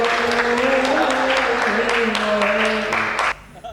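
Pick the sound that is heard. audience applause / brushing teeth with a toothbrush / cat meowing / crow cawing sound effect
audience applause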